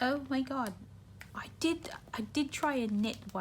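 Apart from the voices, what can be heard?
No distinct noise like a dog, phone or traffic.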